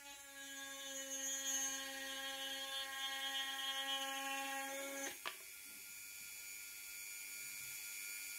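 A cordless drill fitted with a drill bit bores holes in a gourd, giving a high, steady whine for about five seconds that stops with a click, followed by near quiet.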